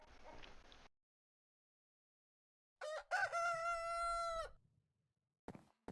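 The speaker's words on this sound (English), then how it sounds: "That chicken outside." A chicken crows in modded Minecraft, one clear, close cock-a-doodle-doo in the middle. A short burst of game noise comes before it, and silence falls between the sounds.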